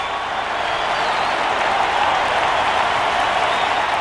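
A stadium crowd in the MLB 08: The Show baseball video game keeps up a steady, loud wash of cheering and applause throughout, with no distinct voices standing out.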